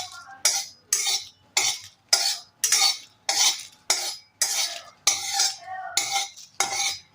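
Dried chillies stirred with a spatula in a dry, empty karahi while preparing mango pickle. About eleven steady scraping strokes sound up close, evenly spaced and crisp, with silence between them and no talking.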